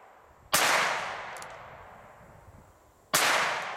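Two loud, sharp reports from a single action revolver, about two and a half seconds apart, each a crack that rings off into a decaying tail.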